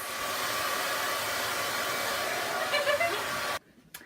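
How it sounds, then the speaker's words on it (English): A hair dryer blows with a steady, loud broadband whoosh for several seconds, then cuts off abruptly, leaving near silence. "This one-of-a-kind hair dryer makes your hair dry in minutes."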